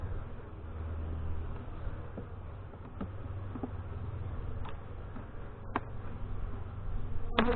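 Honey bees hum in a steady, dense drone around an open hive during a spring inspection, with a few light clicks and taps from handling. The buzzing is close and continuous, and no one speaks.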